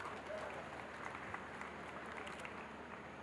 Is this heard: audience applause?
yes